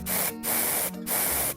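Deodorant spray can giving two long hissing bursts with a brief gap between, close and fairly loud, then starting a third.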